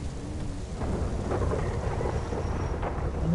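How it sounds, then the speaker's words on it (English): Rain falls steadily in the video game GTA V while thunder rumbles low and continuous beneath it, with no talking. "Raining, thundering."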